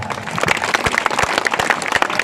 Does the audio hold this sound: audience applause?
yes